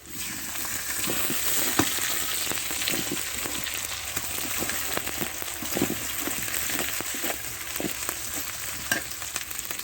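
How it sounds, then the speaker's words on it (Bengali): Pangas fish head fries in spice paste with tomato, producing a dense, steady sizzle and crackle close up, dotted with irregular scraping stirs over about ten seconds, with no one speaking. "দেখেন মাথাটা আমি কষিয়ে নেবো"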